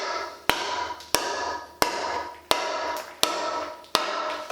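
Six sharp hatchet chops bite into wood while carving a Greenland kayak paddle, spaced evenly at roughly two-thirds of a second, each a crisp close crack with a short woody ring.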